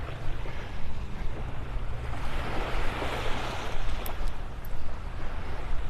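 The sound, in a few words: waves on a beach in the morning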